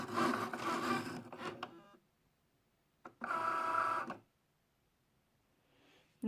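A Cricut Joy cutting machine works through a design in two mechanical bursts of whirring and scraping, about two seconds and then one second long, separated by near silence.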